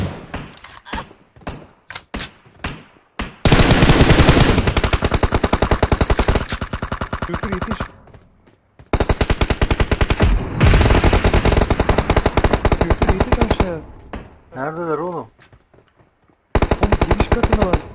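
Loud bursts of machine-gun fire in a shooter video game, several short volleys at first, then long sustained automatic strings broken by brief pauses, with a rising warbling tone near the end.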